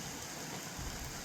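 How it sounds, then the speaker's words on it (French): Steady, broad hiss of rain falling at the start of a thunderstorm, continuous and even throughout, with no voices or distinct drops standing out. "La pluie seule a commencé de tomber."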